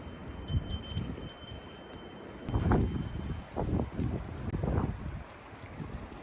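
Strong gusts of wind sweep across countryside during a fire, booming and rumbling against the microphone in uneven surges that build louder partway through, with no one speaking.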